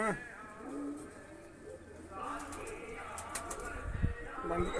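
Pigeons coo softly at close range in a series of low, rolling calls, with faint background noise and occasional voices around them.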